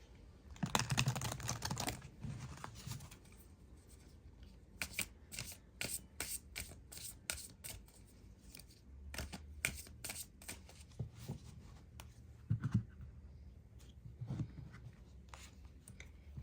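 Fortune teller oracle cards being shuffled by hand, a rapid series of crisp riffles and soft slides, close and fairly quiet, with no talking.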